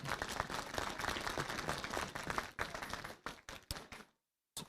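A crowd applauding at a mayor's New Year ceremony, a full wash of clapping that breaks into scattered separate claps and then goes silent, with one clap returning at the very end.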